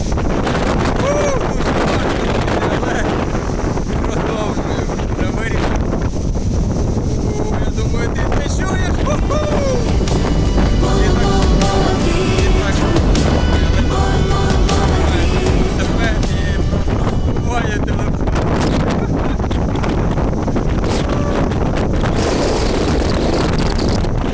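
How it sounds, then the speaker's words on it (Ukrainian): Strong wind roars and buffets the microphone continuously, loud and unbroken, with a person talking underneath while riding a bicycle slowly against a headwind in a forest. "Вітер не вщухає"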